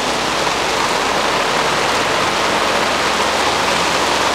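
Heavy rain pours down in a loud, dense, constant hiss with no pauses or voices.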